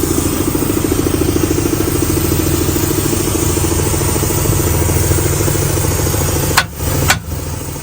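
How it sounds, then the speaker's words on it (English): Air compressor running during a rear brake rotor and caliper replacement on a skoolie, a loud steady mechanical drone with a rhythmic pulsing chug, broken near the end by a couple of short knocks. "I can turn the compressor off, right?"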